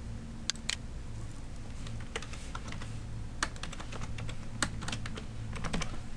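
Someone types a password on a computer keyboard in short clusters of crisp key clicks, close up over a steady low hum, with brief pauses between bursts.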